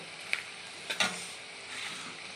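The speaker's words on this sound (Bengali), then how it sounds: "ছোট ছোট করে পেঁয়াজ কুচিয়ে নিয়ে পেঁয়াজটা লাল লাল করে ভেজে নিলাম তেলে" Onions fry in hot oil with a steady, soft sizzle, broken by a few brief clicks of stirring. No one speaks.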